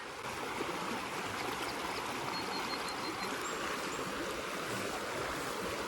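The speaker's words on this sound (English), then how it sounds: "Nice curve in the creek." A summer creek bending through fly-fishing country flows in a continuous, even rush of water, fairly close and loud, with no voices over it.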